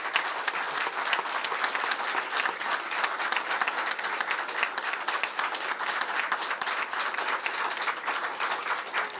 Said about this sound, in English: please join me in a warm round of applause for Attorney General Meese